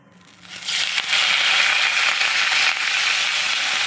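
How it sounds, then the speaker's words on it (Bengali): Neem leaves hit hot oil and a loud, hissing sizzle swells within half a second, then holds steady and bright to the end. "তেল গরম হয়ে গেছে, নিম পাতাটা ভেজে নিচ্ছি"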